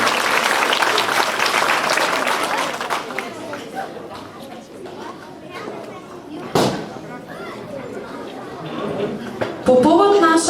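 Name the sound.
audience applause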